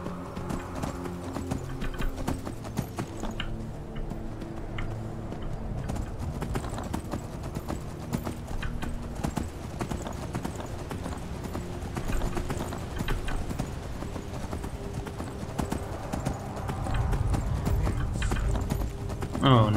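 Rapid, rhythmic hoofbeats of a galloping horse in The Elder Scrolls V: Skyrim pound steadily and close, with a busy mix of game sounds and music underneath, louder toward the end.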